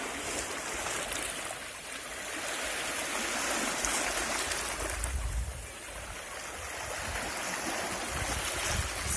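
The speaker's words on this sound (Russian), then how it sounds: "Ой, какие красивые волны у тебя." Sea waves washing ashore at Anapa, a continuous hiss and rush of water that swells and eases in slow surges, close by and steady with no speech over it.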